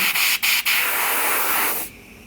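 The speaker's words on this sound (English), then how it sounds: "then I'll start spraying the lure white" An airbrush sprays white paint onto a fishing lure, a steady close broadband hiss broken by two brief pauses before the spray cuts off near the end.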